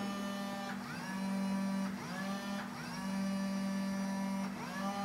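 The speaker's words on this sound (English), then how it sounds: "The motor is moved in the right or left" Base motor of an OWI 535 robotic arm, driven through an Arduino with a Wii nunchuk controller: a steady, close electric whine with a constant low hum, its pitch shifting briefly each time the motor changes direction.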